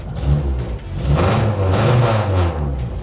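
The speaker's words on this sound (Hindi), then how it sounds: "this is a very loud car और ये गाड़ी जब स्टार्ट होगी तो आपके इर्द गिर्द जितने घर हैं सबको पता चलेगा" A loud vintage car engine from Pakistan turns over and revs in rough, raw surges, close and dominant, with no speech over it.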